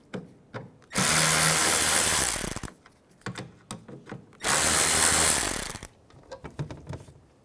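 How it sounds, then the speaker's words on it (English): Two long bursts of a power driver with a 7mm socket backing out screws from a 2005-2010 Chevy Cobalt tail light, each lasting about two seconds, with light clicks and handling noises between them. "Now we're going to use a 7mm socket, take these two screws out."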